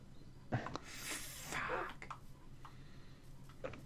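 A single sharp human sneeze bursts out clearly, followed by breathy noise and a quieter trailing sound in a casual indoor setting.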